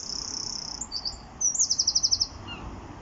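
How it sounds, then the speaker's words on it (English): Bird chirping by a river while fishing, a thin high warbling call followed by a quick run of about eight repeated chirps, clear over steady flowing-water background noise. "I'm not even sure what bird that is."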